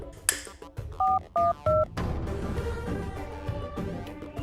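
A telephone keypad sounds three distinct dial tones in quick succession, clear against a quiet background, followed by a faint, steady ringing-line hum.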